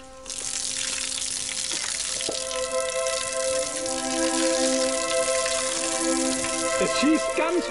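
Water gushing and overflowing in a steady broad rush beneath a stream bed, close and continuous, with a faint hum of tones and brief voices underneath.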